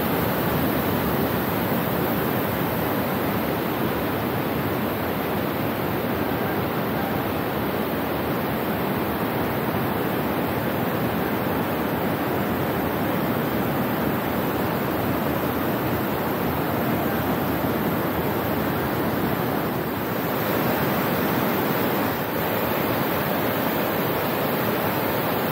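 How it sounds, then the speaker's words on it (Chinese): Water pours down from a dam and breaks into a series of small waterfalls at Hog's Back Park in Ottawa, a loud, continuous, even rush with no pauses or voices. "这是从大坝下来的水，"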